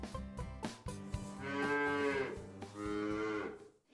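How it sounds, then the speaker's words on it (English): A cow on a farm lets out two long, loud, close moos, preceded by a few short thumps and rustles, with no talk. "Look how big this cow is."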